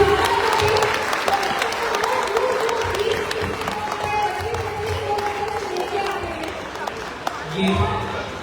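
Audience clapping loudly at a community annual cultural function honouring mothers, dense steady applause with a sustained voice or tone audible over it, tapering slightly toward the end.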